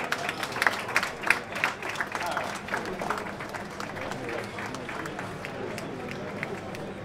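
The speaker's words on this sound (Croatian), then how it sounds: "Molim vas jedan veliki aplauz za njega" An audience at a music awards ceremony claps for a blues musician being introduced, a sustained rippling applause heard at moderate distance that gradually tapers off.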